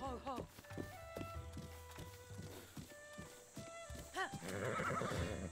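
A wild horse in the video game Zelda: Breath of the Wild whinnies and snorts while hooves clip-clop in a steady walking rhythm, with someone talking in French over it.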